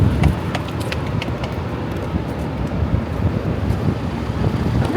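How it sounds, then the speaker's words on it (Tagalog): Wind blows outdoors near the Mall of Asia, a steady loud gusty rush buffeting the microphone with low rumble and faint traffic underneath, no clear voices. "Ang hangin."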